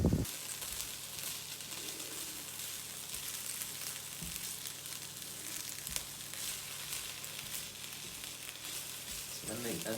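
Chopped onion fries in a pan with a steady, close sizzle that holds at an even level throughout, and no voice is heard.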